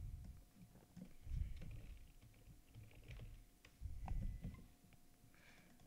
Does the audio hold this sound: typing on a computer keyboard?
yes